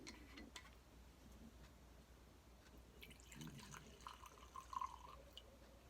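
Maker's Mark bourbon poured into a glass, a faint run of drips and light trickling that grows busier toward the end, quiet and close with no talk.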